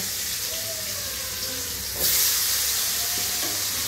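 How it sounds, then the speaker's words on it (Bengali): Potatoes coated in salt and turmeric dropped into hot oil in a pan, a steady frying hiss that swells sharply into a louder, brighter sizzle partway through, close up, with no voices. "এটা 3-4 মিনিট ধরে আমি ভেজে নেব।"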